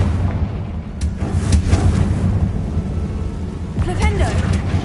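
A Confringo spell explosion in a video game, a loud sustained rumbling blast with sharp crackling bursts, a voice sounding over it.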